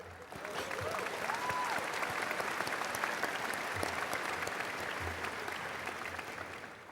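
An audience at the 2015 Hebron High School graduation applauds the parents, steady dense clapping that swells quickly and holds, with a faint whoop or two rising above it.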